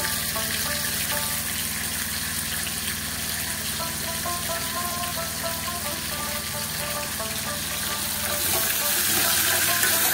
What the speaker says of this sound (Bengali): টমাটোটাকে আমি একটু ঘুরিয়ে দিচ্ছি